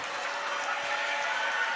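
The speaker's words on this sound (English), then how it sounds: "And this crowd is booing Providence." Crowd noise from a boys high school basketball game, Floyd Central against Providence, as fans boo Providence. A steady, dense roar fills the gym at full level for the whole stretch, with no individual voices standing out.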